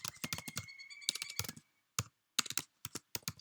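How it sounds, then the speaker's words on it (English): Keys clatter on a TI-99/4A home computer keyboard in quick, uneven bursts of close, crisp clicks, with short pauses and faint electronic tones in the background. "I can type whatever I want."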